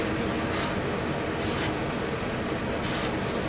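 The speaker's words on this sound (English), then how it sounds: "Maybe I can write it down here." Handwriting with a pen on paper, a close, quiet scratching in short strokes and bursts with brief pauses between them, heard alone without talk.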